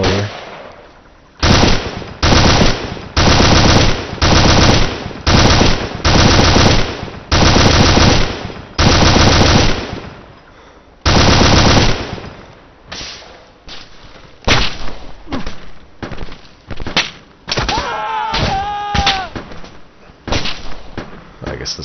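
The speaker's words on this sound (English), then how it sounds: "Looks like we're taking some fire from" Heavy gunfire in the ARMA 2 video game: loud, close bursts of automatic fire in repeated volleys, with scattered single shots and more distant rattling toward the end.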